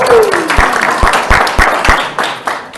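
Loud, dense clapping from a church congregation at a Sunday morning kickoff service, steady crowd applause with a few sharp individual claps standing out close by.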